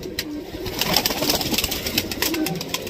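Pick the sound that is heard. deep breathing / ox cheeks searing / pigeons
pigeons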